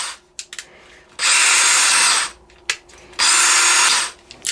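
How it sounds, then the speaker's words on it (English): A DeWalt 20V compact cordless drill whirs at high speed for about a second, then its electric brake stops it abruptly; it runs a second burst that again brakes to a halt, close and loud, with faint handling clicks between. "Let's watch the electric brake on the DEWALT. It just slows down and stops."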